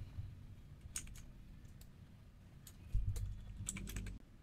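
A URL is typed on a computer keyboard as a quiet, uneven run of key clicks over a low background hum, with a denser burst of keystrokes near the end.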